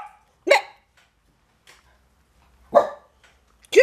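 A dog barks indoors early in the morning: three sharp, separate barks spaced a second or two apart, close and fairly loud against an otherwise quiet room.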